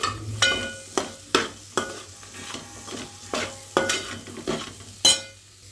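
Boiled potato pieces stirred through frying masala for an aloo fry, a spoon scraping and clacking in the pan roughly once a second amid steady sizzle and a low background hum, close and clear with no talking.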